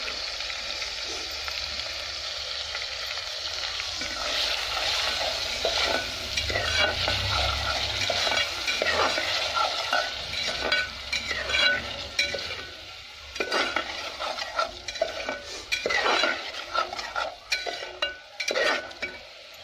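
Potato curry with tomato paste and salt fries and sizzles in a pan. The soft, steady sizzle is broken by repeated scraping stirs that grow more frequent and uneven toward the end.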